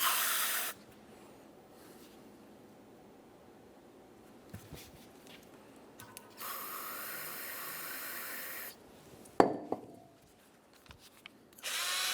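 A Honda Accord wheel bearing bracket rinsed with a spray: bursts of loud hissing spray alternate with quiet gaps and a few clunks, the longest burst lasting about two seconds.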